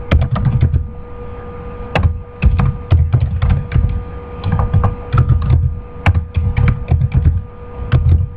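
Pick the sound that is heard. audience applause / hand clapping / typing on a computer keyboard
typing on a computer keyboard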